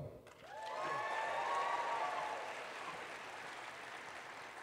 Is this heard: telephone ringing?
no